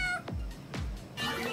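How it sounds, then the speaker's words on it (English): Cartoonish cat meows from the Card-en-Ciel video game, two clear descending meows close up over a steady background of game music. "Meow."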